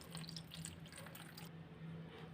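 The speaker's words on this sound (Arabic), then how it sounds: "انا زودتها ميه للمستوى اللي انا عايزاه" Water pours into a pan of chicken moussaka, a soft continuous trickle and splash at low level, close by, with no voices.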